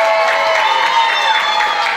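A party crowd at a New Year's Eve party in Ottawa cheers loudly for a team, a steady wash of voices and applause that holds at full volume from start to finish.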